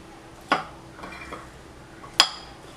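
Two sharp clinks of a spoon striking a bowl while mango pickle ingredients are mixed, with soft scraping and stirring between them, close and otherwise quiet.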